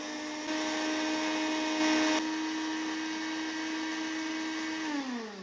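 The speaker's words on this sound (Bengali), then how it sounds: "তারপরে জারের মধ্যে দিয়ে এবার আমি এটাকে গ্রাইন্ড করব" Roasted coriander being ground in a mixer jar: a steady, loud electric motor whine that runs continuously for about five seconds, briefly rising in pitch partway through, then spinning down at the end, with no talking.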